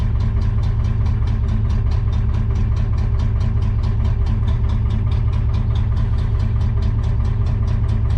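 A vehicle engine idles steadily while its alternator charges the batteries, giving a constant low rhythmic throb that stays close and even, with no talk over it.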